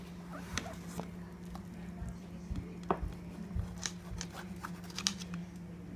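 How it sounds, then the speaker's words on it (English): A hatchet cuts through a homemade spinach pizza on a board, giving soft scattered crunches and taps up close, with a steady low hum in the room behind it. "I use one of these hatchet things because the pizza cutters to me don't really do the job"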